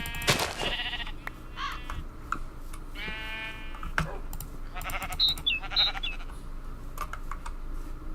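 Sheep bleats in Minecraft, a few short electronic-sounding cries over close, steady computer keyboard typing and clicks, no talking.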